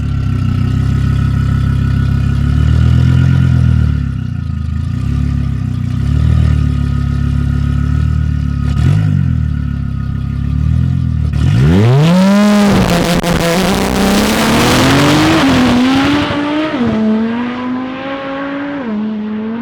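A 1000+ HP front-wheel-drive Audi RS3 idles with a loud, lumpy burble at the drag strip, then launches into a hard, rising full-throttle run with rapid gear changes that fades as the car pulls away.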